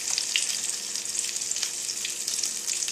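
Demi-glace reduces in a hot pan with a steady, bright sizzle and hiss. It runs unbroken for the whole stretch, close and fairly loud, with small crackling bursts rising out of the bubbling.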